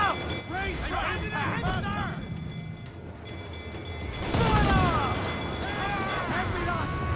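Ship cannons fire in Assassin's Creed Black Flag, a deep booming volley rising above a constant background of sea noise and shouting crew voices, with a louder burst of firing toward the end.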